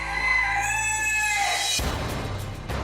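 A rooster crows a long, loud call at a chicken coop, then the crow cuts off into rough outdoor noise and a brief cluck.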